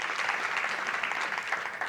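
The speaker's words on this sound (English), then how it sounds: "Put a clap together, 2 hands together for you." A crowd at a youth disaster risk reduction forum for the Americas and the Caribbean claps steadily. The dense applause holds at an even level for two seconds.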